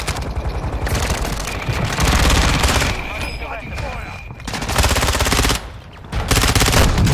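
Dense, loud gunfire bursts crowd a chaotic video game firefight, with shotgun blasts mixed into rapid shooting that pauses briefly and then resumes.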